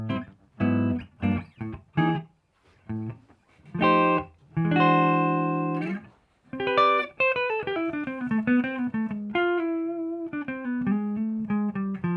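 Gibson Les Paul AFD Slash signature electric guitar played on its neck pickup with a clean tone: loose picked single notes and chords, then a ringing sustained passage and a sliding, singing melodic line, alone and fairly close.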